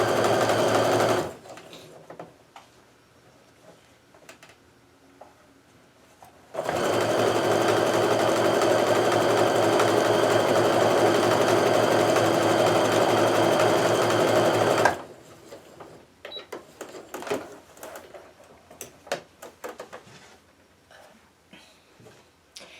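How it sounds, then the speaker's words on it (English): A sewing machine stitching quilt pieces together with a regular 1/4 inch stitch, running in a short burst, then a long steady whirring run of about eight seconds, followed by handling clicks and rustling. "We can sew that together."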